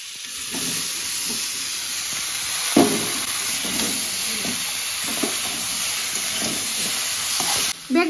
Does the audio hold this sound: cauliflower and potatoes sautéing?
yes